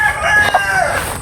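A rooster crows once, loud and close, with a brief clucking note in the middle.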